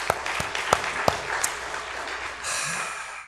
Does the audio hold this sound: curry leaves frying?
no